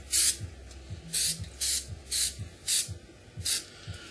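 Spray adhesive applied to a fabric edge in a shop, short hissing bursts repeated about seven times in a steady rhythm, close and fairly loud with no talk.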